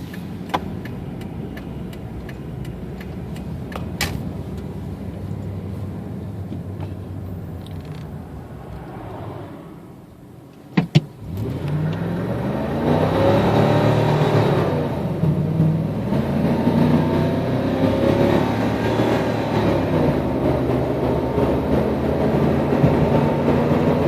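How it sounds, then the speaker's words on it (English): A 1998 Ford F-150 with a 5.4-liter V8, 4x4 and 193,000 miles accelerates from 0 to 60 with wheel spin, heard from inside as a steady engine drone that dips briefly and then rises into a louder, rising roar. "We're going to do a 0 to 60 run."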